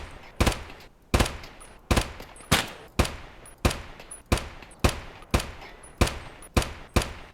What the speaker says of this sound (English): And after all that trading of gunfire, I had the whole scav squad down.